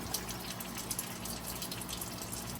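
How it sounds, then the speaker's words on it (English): A countertop bottleless water cooler, Avalon model A12, sputters and gushes steadily as trapped air is purged from the line ahead of the water, a continuous close hissing, splashing flow. "There's air in there, so it takes a while to build the air up, and the air will eventually come out, and then the water comes out"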